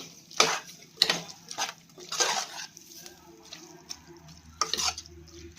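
Squid is stirred in a pan with several scraping, sloshing strokes at irregular intervals, some louder than others, against a faint sizzle.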